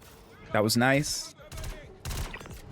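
Gallant rifle fire in the Star Citizen first-person shooter game, a few sharp close shots in quick succession, with a voice speaking briefly in between.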